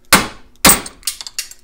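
A padlock core being knocked out of a lock held in a vise, two sharp loud metallic hammer strikes followed by a few lighter taps, close up.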